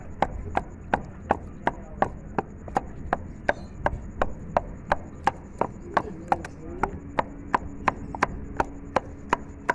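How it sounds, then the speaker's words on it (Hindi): Roasted eggplant is ground by hand the traditional way, a crisp knock repeating steadily about every 0.4 seconds, roughly two dozen even strikes close by. "अब इनको हम ग्राइंड करते हैं देसी तरीके से।"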